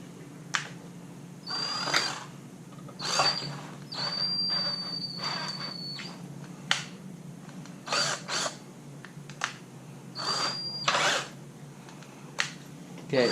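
A power drill in low gear bores through a Motovox engine case in short bursts of whining spin, with pauses between them, close and moderately loud, with no talk.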